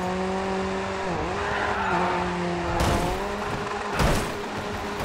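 In the racing video game GRID 2, a Golf race car's engine whines steadily with shifting pitch, with tire squeal and a couple of rougher bursts. The car sound is loud and continuous.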